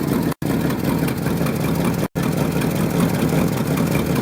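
The engine of an old yard truck idles steadily after a cold start, a constant rough rumble that fills the clip, broken by two very short dropouts.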